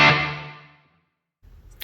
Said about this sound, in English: So a room reverb, you can hear it's really subtle.